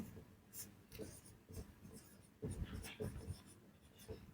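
Chalk or marker strokes on a board during a Class 10 maths lesson on real numbers, a series of short scratchy taps and strokes under a teacher's continuous talking.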